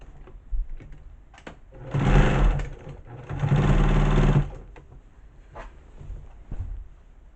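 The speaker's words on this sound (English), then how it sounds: "you want to leave the heavy needle on your sewing machine" A sewing machine with a heavy needle stitches quilt binding in two steady bursts of rapid stitching, loud and close, with quieter pauses and small clicks between them.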